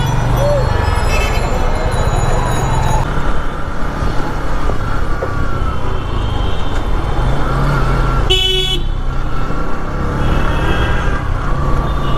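Road traffic jammed up around a motorcycle in a city: a dense, loud, continuous engine and road roar from cars, buses and trucks close by, with a sharp car horn toot cutting through near the end and no clear talking.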